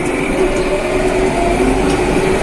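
A New Holland TC5.90 tractor engine runs in fourth gear on hilly farmland in 4x4, giving a steady, loud, unbroken drone with a constant low hum and cab noise, with no talk.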